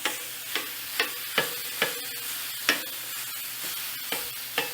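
Ground beef frying in a pan, chopped up with a utensil: a steady sizzle beneath regular sharp scraping strikes roughly every half second, close and clear with no talking.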